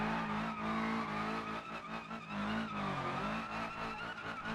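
A video-game truck skids with loud, wavering tire squeal and revving engine, sliding in bursts over a few seconds.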